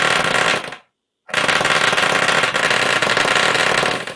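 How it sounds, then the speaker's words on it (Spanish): A small USB-powered electric motor spins fast, giving a loud, harsh, rattling buzz close by. It cuts out briefly for about half a second, then starts up again and runs steadily. "el motor va a girar mucho más rápido."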